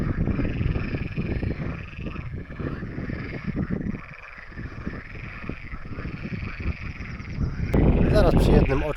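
Dense, loud croaking of many frogs in a pond fills the air, with a person speaking over the chorus for much of the time.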